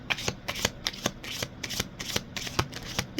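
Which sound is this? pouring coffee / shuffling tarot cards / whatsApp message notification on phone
shuffling tarot cards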